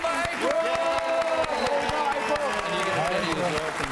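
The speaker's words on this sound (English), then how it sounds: "A big cheer for April!" Studio audience at a kids' music quiz show cheers and applauds steadily for a young child contestant, a continuous crowd roar with a voice speaking over it.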